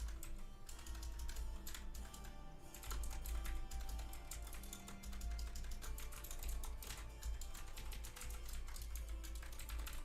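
Continuous rapid typing on a computer keyboard, fairly quiet but steady, with dense irregular key clicks running throughout and no voices.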